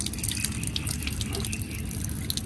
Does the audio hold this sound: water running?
yes